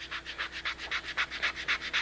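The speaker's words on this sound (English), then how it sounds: "you want to have a sanding block with a little pie-shaped edge on it" A sanding block with a pie-shaped edge rubs back and forth in a quick, even rhythm of about a dozen raspy strokes, close up and quiet, with no speech.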